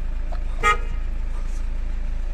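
A 2011 Chevrolet Captiva 2.0 diesel's parking sensor sounds one short, sharp electronic beep over the low, steady hum of the idling engine.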